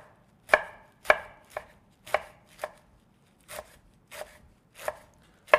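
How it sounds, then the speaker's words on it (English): A knife chops rolled kale into small pieces on a cutting board, with about ten sharp, close knocks at an uneven, unhurried pace and no talking. "I'm going to roll the kale and chop it very small into small pieces."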